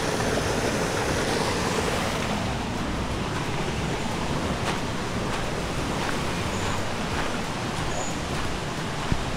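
A river runs beside a campsite, heard as a steady, broad rushing wash of water at close range that holds even and unbroken throughout, with no voices over it.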